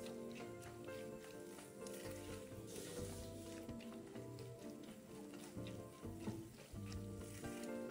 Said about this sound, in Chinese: 炉开中火快炒